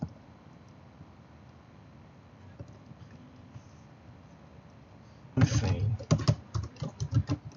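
Typing on a computer keyboard while C# code is written: after a stretch of quiet background hiss, a close flurry of irregular key clicks and taps begins and continues to the end.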